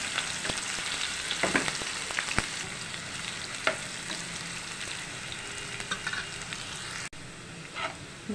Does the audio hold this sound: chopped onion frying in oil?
yes